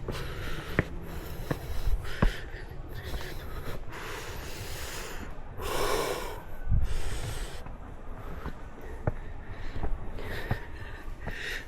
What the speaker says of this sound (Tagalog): Rinig nyo naman yung hingal ko